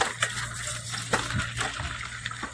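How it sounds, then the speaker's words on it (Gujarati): A small village river flows past with a soft, continuous rush and light gurgling splashes, heard close and fairly quiet, with no talking. "આ અમારી ગામની નાની નદી."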